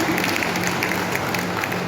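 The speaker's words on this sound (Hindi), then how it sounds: "आप सभी लोग एक बार जोरदार ताली बजाएं" Audience applause at a Hindi poetry recitation, a steady dense wash of clapping from a crowd with no pauses, fairly loud and continuous throughout.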